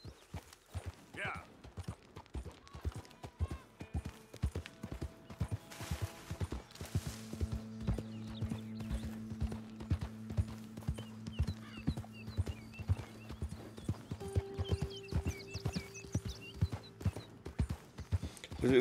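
Horse hooves clip-clop at a steady walking pace in the video game Red Dead Redemption 2, quiet and continuous under a droning music bed, with a brief whinny near the start and people talking over it.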